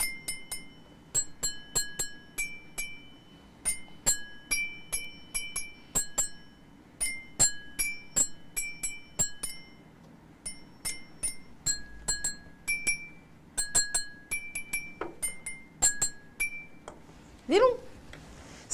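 Colored glass cups holding water are struck one after another, giving bright ringing clinks in quick rhythmic runs, close but fairly quiet with a soft room hiss behind them.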